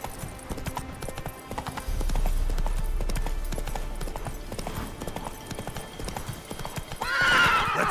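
Roach the horse gallops in The Witcher 3, with rapid rhythmic hoofbeats and a heavy thudding run, followed by a loud whinny at the end.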